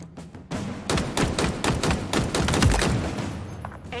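Rapid bursts of gunfire from a weapon in the video game Halo Infinite, a dense string of sharp close shots with thumping impacts over about three seconds.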